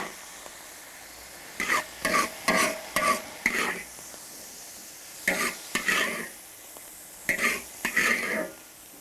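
Chopped chili cooked with sugar in a wok for steamed fish head, with four bursts of stir-frying, each a quick series of scraping, sizzling strokes, separated by quieter pauses of low background sizzle.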